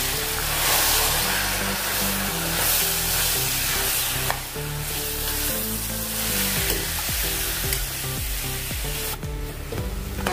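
Cabbage dal sabji sizzles steadily in a pan while a spoon stirs it in after spices are added, with continuous frying hiss and repeated scraping strokes close up, and no talking.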